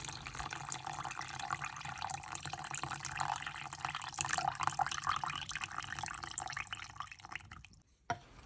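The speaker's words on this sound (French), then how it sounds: "Ajoutez ensuite 300 ml d'eau tiède." Lukewarm water poured steadily into a bowl of bread dough mix for olive baguettes, making a soft, continuous trickling splash that runs for about eight seconds and then stops suddenly.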